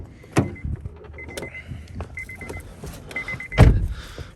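Power windows on a Honda Odyssey minivan, running off a supercapacitor in place of a battery, whir in several short motor runs with a few soft thumps between them, close by and with no talk.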